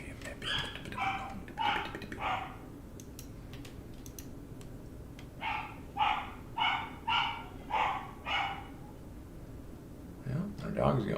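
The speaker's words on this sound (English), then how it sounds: "our dog's going crazy." A household dog barks excitedly in the background of a stock market livestream, two loose clusters of sharp, rhythmic barks, the second a steady run of about six, moderately near, with a steady room hum.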